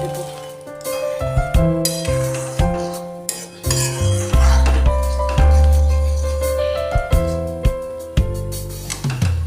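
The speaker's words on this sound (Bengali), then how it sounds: "এখানে আমি ভেজে রাখা মাখনাটা দিয়ে দেব।" Fried fox nuts (makhana) go into melted sugar in a cooking pan for a rice-free payesh dessert, with a run of metallic clinks, scrapes and stirring knocks of a utensil against the pan, close and irregular, without talk.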